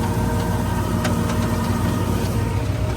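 A 3630 tractor engine runs at a steady even pitch, loud and close, with a constant low rumble and hum and no speech over it.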